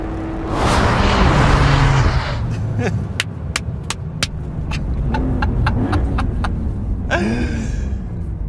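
A new 2025 Porsche 911 sweeps past with a loud whooshing engine roar that swells and fades, followed by a series of sharp popping bursts from the exhaust and a second passing rush near the end.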